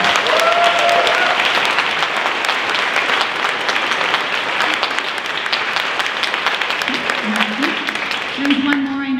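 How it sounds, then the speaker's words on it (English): Audience applause after band members are introduced at a middle school fall band concert, a dense, steady wash of clapping lasting throughout, with faint voices and a brief tonal sound near the end. "Please give them a round of applause."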